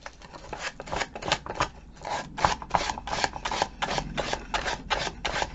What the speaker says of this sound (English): As you're sanding this off, it's also giving you that nice little distress line.